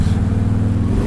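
Engine of a Pontiac Firebird, a loud, deep, steady engine note close by with a throbbing low-frequency rumble, lasting about a second.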